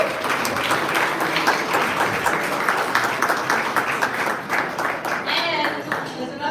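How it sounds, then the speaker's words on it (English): Sustained audience applause fills a large hall at a Forbes Afro Future Summit awards gala, dense clapping throughout with murmured voices and cheers mixed in. "Please can we give them a round of applause as well."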